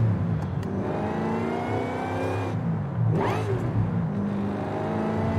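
A car engine in Forza Horizon 5, tuned as a grip car, hums steadily at mid revs before climbing in a quick rev near the end, clear and moderately loud with no talking.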